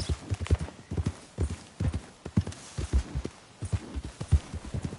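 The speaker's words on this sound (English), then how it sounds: "Wow, fine horse there." Horse hooves in Red Dead Redemption 2 clip-clop in a steady, close rhythm of paired thuds at an easy trotting pace, continuous and moderately loud. No speech is heard over the hoofbeats.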